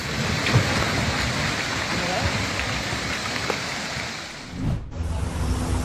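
Heavy rain pours down in Indonesia, a dense, steady roar of falling water close by with a rushing, surging undertone, loud throughout with a brief dip and swell near the end.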